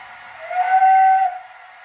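A single steady whistle tone from a model train rises, holds for about a second, then fades, clean and fairly loud with no voices.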